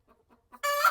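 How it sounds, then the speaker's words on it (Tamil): A hen in a coop gives a few soft, faint clucks, then one loud, drawn-out squawking call close by. "இந்த 2 கோழி ஏன் படுத்துட்ருக்கு?"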